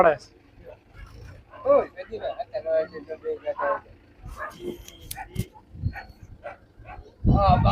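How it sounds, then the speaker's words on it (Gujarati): Dogs fighting near a farmyard where a tractor is mentioned, with sharp barks and yelps in scattered bursts, mixed in with people talking throughout. "કૂતરાનું ઢીંગાણું થઈ ગયું છે"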